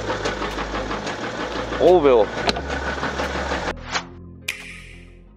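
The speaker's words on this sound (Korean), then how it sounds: "앞에서 엔진음이 뭐가 타격음이 나요" A BMW X5 E70 30d xDrive diesel engine runs with a steady low rumble and rhythmic knocking, while someone talks briefly over it and a few short clicks occur near the end.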